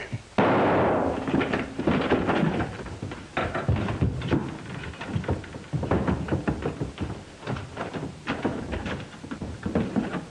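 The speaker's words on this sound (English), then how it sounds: "who's doing all the shooting?" Gunfire in a 1945 Western film, a run of sharp cracks and pops going off repeatedly across the scene, loud and close, with some scuffling and movement sounds mixed in and no talk.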